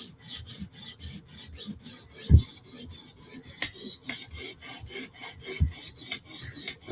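A PM2 steel knife blade is drawn across a sharpening stone in quick, regular 90-degree strokes, a close, rhythmic rasping scrape repeated steadily with occasional heavier knocks, no talking.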